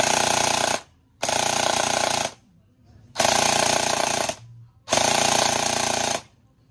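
An upgraded WD PDX V3 airsoft gun with a high-speed gear and motor is test fired in four loud, sustained full-auto bursts with short silent gaps between them.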